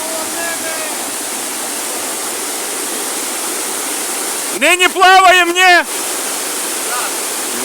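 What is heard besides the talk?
mountain stream and small waterfalls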